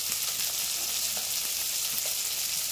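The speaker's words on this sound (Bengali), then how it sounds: "তো দেখো এই সাইডে মাছ ভাজা হতে থাক" Small puti fish fry in a wok with a steady, close, even sizzle and faint crackling throughout, with no voices.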